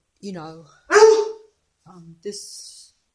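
A pet dog indoors gives a few short barks and yips in quick separate bursts, close and moderately loud, with brief gaps of silence between them.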